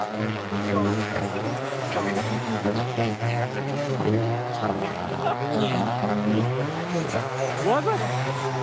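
Rally car on a demo run in Okinawa sweeping past on the inside line, its engine note rising and falling loudly and near, while a commentator and onlookers talk over it throughout.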